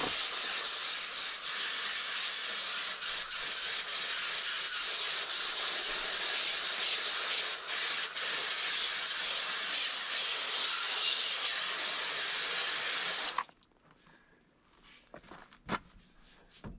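Water spray hissing steadily at close range while rinsing a 1979 Chevy Suburban, a loud continuous rush that stops abruptly, leaving quiet drips and faint handling sounds.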